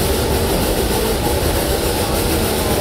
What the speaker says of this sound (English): We're now sending this train straight up the mountain.